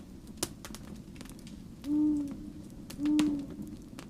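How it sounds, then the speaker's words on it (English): An owl hoots twice on a cold night near cabins in Lapland, two soft, low, evenly spaced calls heard at a moderate distance over a steady background hiss with faint crackles. "I'd grown used to that owl over the years"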